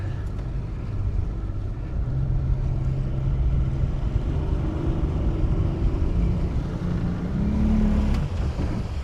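A Wellcraft motorboat engine idles with a steady, low rumbling drone that never revs up, close by and continuous, unable to run above idle.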